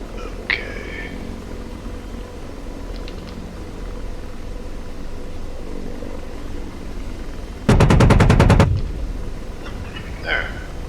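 AH-64D Apache helicopter chin cannon in DCS firing one rapid burst of about ten evenly spaced heavy shots, loud and close, over a steady cockpit rotor and engine drone.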